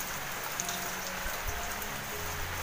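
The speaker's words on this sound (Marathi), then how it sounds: "पाऊस पाऊस" Steady rain falls as an even, continuous hiss, with drops pattering on surfaces nearby and no voices.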